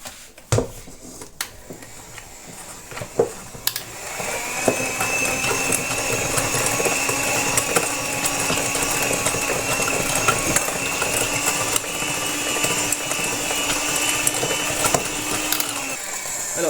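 An electric mixer runs steadily with a mechanical whirring drone, blending flour into a crumble topping for a cherry and cream cake, with a few clicks and knocks before the motor settles into a continuous loud hum.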